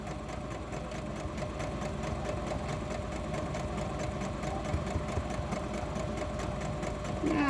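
A sewing machine hums steadily and fairly quietly as it stitches cotton and lace scrappy quilt blocks together, running without a break for the whole stretch.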